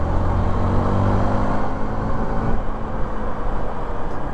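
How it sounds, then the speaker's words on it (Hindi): Hero Impulse motorcycle engine pulling hard at full throttle in third gear, a loud low-pitched drone heard close with rushing wind noise, the tone shifting partway through. "let's feel the engine out. Third gear, flat open."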